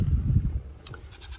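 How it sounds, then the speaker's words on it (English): Goats bleat a few times in short, wavering calls, fairly close, with a low rumble of background noise. "Those are my goats, excuse the noise."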